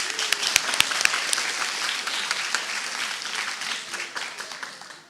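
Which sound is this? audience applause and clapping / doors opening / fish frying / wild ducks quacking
audience applause and clapping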